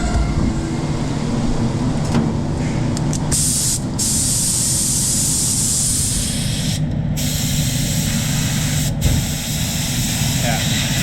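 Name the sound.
spray gun spraying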